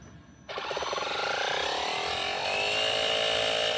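After a short quiet start, a small battery-powered electric tire inflator set to 40 psi kicks on and runs steadily with a buzzing, rattling hum and a slowly rising whine.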